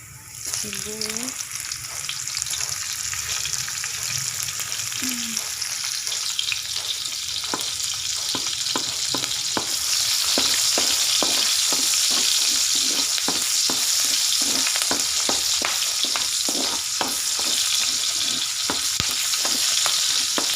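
Onions sautéing in a pan after garlic: a loud, steady sizzle with rapid, rhythmic spatula scrapes and taps that grow denser after the first few seconds, plus a brief murmur early on.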